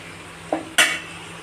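Onions and green chilies sautéing in a pan for a goruchikkudukaya curry, giving a soft scrape followed by a louder stirring sizzle burst, close and brief, with no talk.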